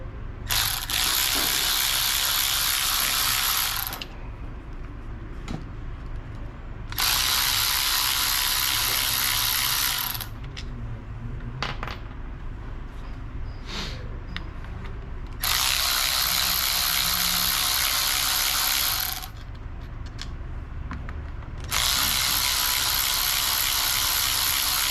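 A ratchet driver with a number 4 hex bit backs bolts out of a Husqvarna chainsaw, bursts of fast buzzing clicking lasting a few seconds each, four runs separated by quieter handling noises, close and loud.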